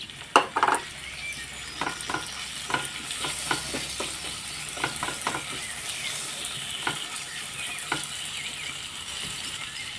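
Ginger, garlic and onion sizzle in a pan as a spoon scrapes and stirs them, with a steady soft fry under a series of sharp stirring clacks spaced through the clip.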